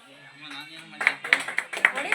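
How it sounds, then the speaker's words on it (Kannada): A group of friends on a trip to Chikkamagaluru claps hands: a voice talks first, then five or six loud, separate claps fall at a steady beat as the talking fades out. "ಚಪ್ಪಾಳೆ ಹೊಡಿರಿ."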